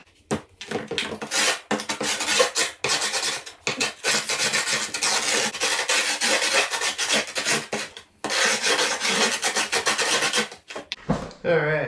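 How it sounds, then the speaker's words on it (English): Skateboard deck edges scuffed down through grip tape for a pump track setup, a loud rough rasping that repeats in uneven strokes with brief pauses, close up and with no talk. "Let's scuff down the edges so we can cut it."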